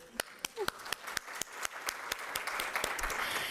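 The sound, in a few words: audience applause at event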